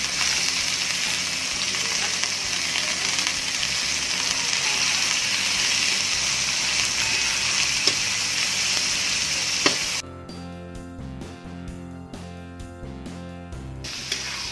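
Half a kilo of pork frying in a pan for lumpiang shanghai, a loud steady sizzle with no talk that drops in level around ten seconds and turns to crackling, spitting pops.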